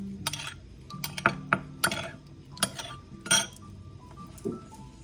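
A utensil clinks against a dish while a sauce with olive oil is stirred together, sharp irregular metallic taps and scrapes close up, with no talking.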